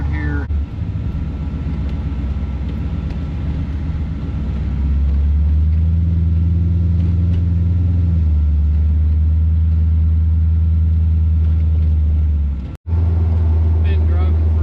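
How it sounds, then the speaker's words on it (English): An LS-swapped C3 Corvette restomod drives on the road, its engine droning low and steady from inside the car, rising in pitch midway, with a brief dropout near the end. "Let me get out on the road here."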